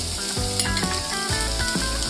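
Chopped onion, capsicum and paneer fry in a pan, a steady close sizzle with rhythmic scraping and stirring strokes throughout.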